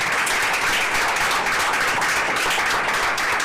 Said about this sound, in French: On applaudit Ramana encore.